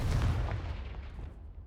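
A Confringo spell blast in the Hogwarts Legacy video game, a loud booming explosive burst that rolls off and fades over about a second.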